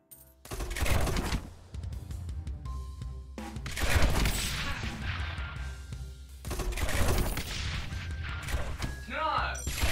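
A mortar tower in the video game Rogue Tower fires repeatedly, making dense booming impacts and crashes that swell and fade in several waves over about ten seconds.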